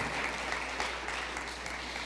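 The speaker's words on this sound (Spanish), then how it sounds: "Dale un aplauso al Rey de Gloria." Church congregation applauding, a brief dense burst of clapping from many hands, steady and fairly distant.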